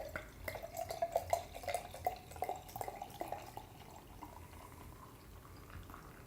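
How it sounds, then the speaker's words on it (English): A 13% stout is poured aggressively into a glass, raising a finger of foamy head; faint splashing and fizzy bubbling come in a burst over the first few seconds, then settle into a soft hiss. "Aggressive pour. Pours about a finger of head."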